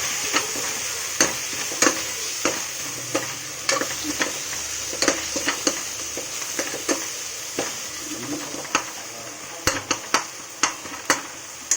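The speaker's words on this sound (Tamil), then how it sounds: "பிரியாணிக்கு தேவையான எல்லாதெல்லாம் இப்போது எல்லாமே போட்டோம். நல்லா ஃப்ரை பண்ணிவிட்டு" Biryani masala frying in a pan with a continuous close sizzle, punctuated by frequent sharp clanks and scrapes as a spoon stirs the mixture against the metal.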